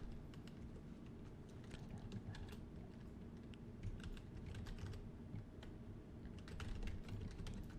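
Quiet, close typing on a computer keyboard while filling in an account sign-up form, a steady patter of key clicks with no talking.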